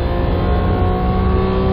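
Porsche 911 GT3 MKII at full throttle on the Red Bull Ring, a loud, steady engine roar heard from inside the car, with a rising tone for just under two seconds.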